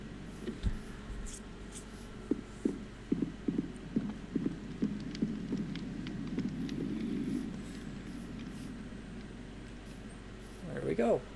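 Horse hooves clip-clop in Minecraft, a run of soft, fairly close steps spaced irregularly through the middle of the clip, with a faint background hum underneath.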